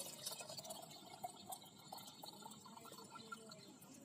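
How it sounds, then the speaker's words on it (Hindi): Plain water being poured into a container of liquid plant fertilizer, heard as a faint, steady trickle and splash without talk. "और पानी भर देते हैं"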